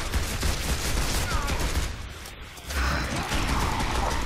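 Gears of War 2 multiplayer on the Sanctuary map: dense, loud rapid gunfire rattling almost continuously, with a brief lull midway before the shooting resumes.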